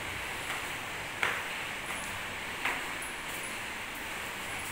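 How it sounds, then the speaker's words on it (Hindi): Heavy rain pours steadily onto a house and garden during a downpour, a dense continuous hiss with a few soft splashy accents, fairly quiet and with no one speaking. "बट पानी अभी भी काफ़ी तेज़ ही बरस रहा है और पूरा गार्डन भरा हुआ है।"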